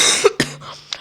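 A person coughs sharply twice, with a short rough throat-clearing burst trailing after, close and loud, with no talking.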